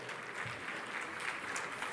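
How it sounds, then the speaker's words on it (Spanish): An audience applauds at a Spanish-language talk on Genesis and the rebellion in the universe, a steady, fairly faint patter of clapping with no voices over it. "Si quieren aplaudir, aplaudan"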